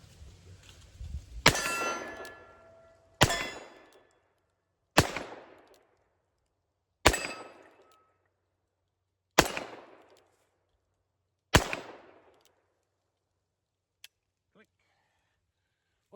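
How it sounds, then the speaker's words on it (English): An old Single Action Army replica revolver fires six sharp, loud shots spaced about two seconds apart, each followed by a short ringing decay, with quiet gaps between and a voice at the start. "Some of those same loads right here in this old single action Army replica."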